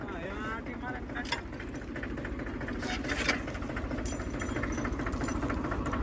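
A tractor engine running in a field, a steady low knocking rumble close by and fairly loud throughout, with voices talking over it.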